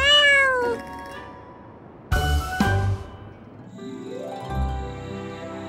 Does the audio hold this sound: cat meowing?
yes